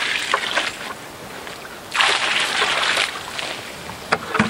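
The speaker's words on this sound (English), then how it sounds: "I'm going to add as much water as I think that I'm going to need right away" Water poured in bursts onto a cob building mix of clay, sand and straw, with splashing and sloshing swelling and fading at close range, no talk.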